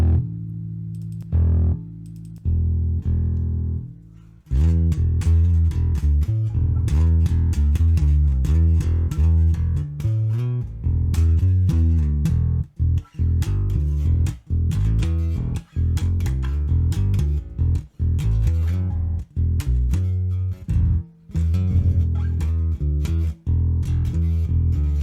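A Cort Action Plus bass guitar plays through an amp with the bass boost fully on, giving a loud, slightly distorted tone. Riffs and sustained notes run for about twenty seconds after a few opening plucks, with brief gaps between phrases.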